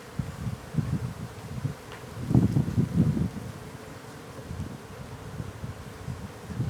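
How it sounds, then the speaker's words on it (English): Bees swarming around a hive being moved, a low buzzing drone that swells and fades as insects fly close past the microphone, loudest in a cluster of passes midway, with faint wind in the background. "you seem to have an awful lot of bees"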